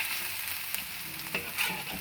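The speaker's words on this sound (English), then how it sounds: "I'm going to stir this through so it cooks a little bit." Chili sizzles in a frying pan for nasi goreng while a metal utensil stirs it, with soft scrapes and a few sharper clinks over a steady close hiss.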